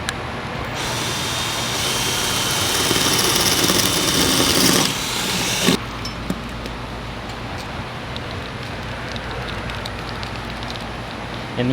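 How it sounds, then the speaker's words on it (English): A power drill whirs loudly and steadily for about five seconds while drilling into stucco at moderate speed, then cuts off, leaving quieter background noise. "For drilling into stucco, I like to keep the drill at a moderate speed"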